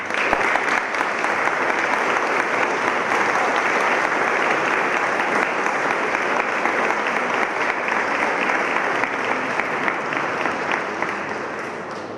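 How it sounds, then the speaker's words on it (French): Audience in a church at a village festival in Bessan applauding a local clarinettist, a long, loud, sustained wave of clapping from a large crowd, easing slightly at the close. "Alors je vous invite à l'applaudir"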